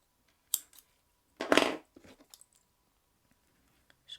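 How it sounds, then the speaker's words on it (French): Scissors snip through micro macramé cord on a beginner's sun-and-petal necklace: a few short, close crisp cuts, the loudest in the middle, then small faint clicks of handling. "Lui aussi, je vais le couper."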